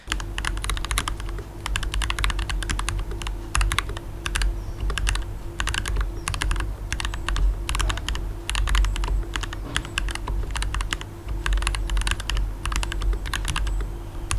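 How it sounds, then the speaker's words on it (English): Fast, steady clicky typing on a mechanical keyboard with clicky switches like Cherry MX Blues, crisp keystrokes close up and continuous, with no voices. "the clicky switches, which is like the Cherry MX Blues"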